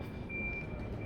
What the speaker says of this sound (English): the beep, beep, beep, beep, that's the sound of a van in reverse.